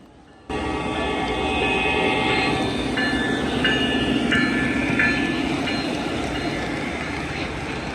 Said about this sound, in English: Here we see two Norfolk Southern diesel locomotives pulling another freight train on this layout